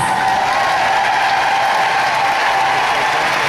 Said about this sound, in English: So would you please stand up for a huge round of applause?